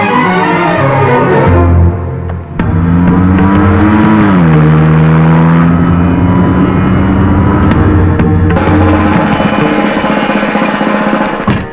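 A car in a movie scene drives in loud and close, its engine droning and rising in pitch as it speeds up, then holding a steady roar as it comes nearer, with no one speaking.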